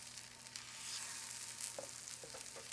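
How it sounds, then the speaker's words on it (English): Lamb patties for sliders sizzle steadily in a hot pan, a bright continuous crackle with a few soft clinks near the end. "You hear that nice sizzle."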